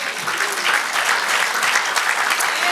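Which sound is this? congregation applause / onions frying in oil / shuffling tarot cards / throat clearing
congregation applause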